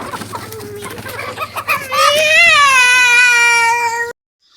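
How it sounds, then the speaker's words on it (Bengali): Chickens being let out of their coop make a few soft clucks and then one loud, drawn-out call that ends suddenly, heard close with no talking. "মুরগি ছেড়ে দিই এখন।"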